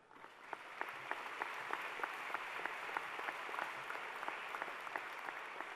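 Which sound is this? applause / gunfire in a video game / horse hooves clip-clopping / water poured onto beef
applause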